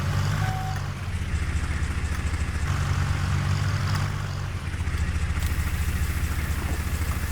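A tractor engine idles in Farming Simulator 19, giving a steady, fairly loud low drone that runs unbroken through the whole stretch with no talking.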